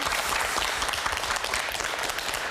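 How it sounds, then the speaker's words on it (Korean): A studio audience on a KBS Gwangju talk show welcomes a guest with steady, dense applause that fills the whole stretch, with no talk above it. "박수 부탁드립니다"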